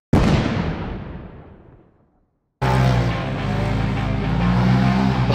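A loud roaring burst like an explosion fades out over about two seconds. A Polaris RZR Pro XP engine then cuts in abruptly at full throttle, holding a steady, heavy roar to the end.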